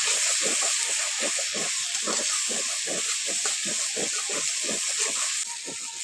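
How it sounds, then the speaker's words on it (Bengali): Chilli and coriander powder frying in a pan for chicken bhuna masala, a steady close hiss and sizzle running without a break. "ও মশলাগুলো দিয়ে ভালো করে একসঙ্গে আবার কিছুক্ষণ কষে নিচ্ছি।"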